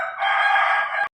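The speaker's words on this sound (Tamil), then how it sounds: "எங்கள் கோழி வேறு கத்திக்கிட்டே இருக்குங்க" A rooster lets out a single loud, close crow that rises and holds for about a second, then cuts off abruptly.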